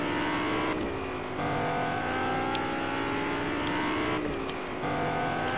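Car engine in Fortnite, revving and shifting with rising and falling pitch as it accelerates, loud and close throughout with no talk.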